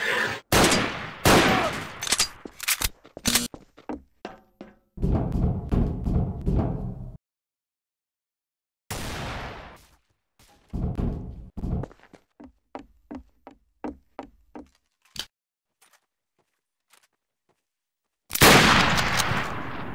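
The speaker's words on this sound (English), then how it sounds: "I just heard him shoot." Bursts of game gunfire in Trouble in Terrorist Town ring out loud and close, rapid automatic volleys and spaced single shots broken by abrupt silent gaps, with no voices over them.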